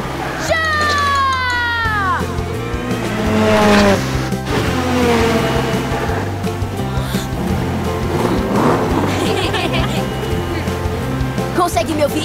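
Cartoon race cars roar off the line at a race start, engines revving loudly with squealing tires and whooshing motion over a busy, continuous music bed, with voices talking over the action.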